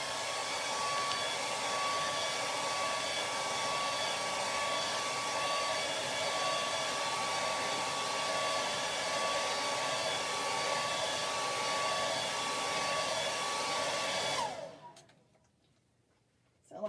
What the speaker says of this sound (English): I'm going to hit this with a blow dryer really quick.